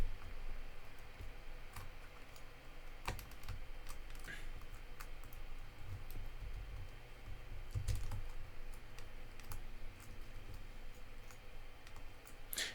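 Faint, quick clicks of typing on a computer keyboard, with uneven bursts of keystrokes over a low room hum and no talking.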